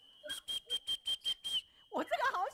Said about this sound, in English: And this whistle was, they are blowing this whistle.